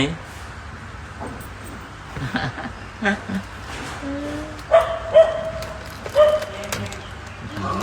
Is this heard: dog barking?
yes